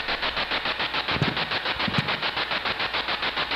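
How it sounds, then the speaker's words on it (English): Spirit box radio sweeping through static during a paranormal investigation, a steady rapid pulsing crackle of noise bursts, loud and close, with brief faint sounds beneath and no talk. "let's go ahead and turn the spirit box off for now"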